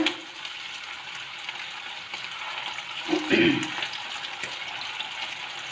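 Potato tikki rolls fry in ghee in a frying pan, a soft continuous sizzle with a brief louder burst of stirring or spattering midway, heard close and steady.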